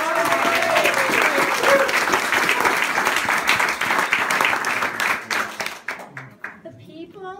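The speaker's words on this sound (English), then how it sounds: "I'd like everybody to give you an applause for" Loud, dense audience applause at a political campaign event, steady at first with a voice briefly audible, then thinning into scattered individual claps before dying away.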